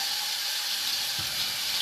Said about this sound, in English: Can you hear all that that noise? That is Azalea doing the dishes